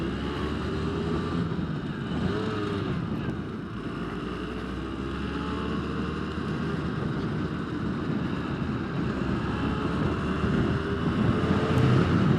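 A 2022 Rieju MRT 50 LC motorcycle riding along, a steady mid-pitched engine drone with gear changes, heavy wind rush over the microphone.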